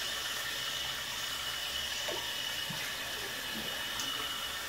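Tap water runs steadily into a sink, a faint, even hiss with no breaks.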